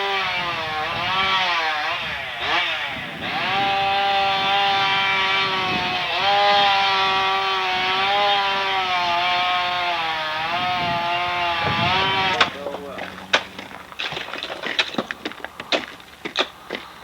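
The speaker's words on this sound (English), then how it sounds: "Here, another fellow in the background with his chainsaw sawing ice." A chainsaw cuts ice off a bridge, its engine droning loudly and steadily with rising and falling pitch as it bites, then it drops to an idle punctuated by sharp knocks and clatter.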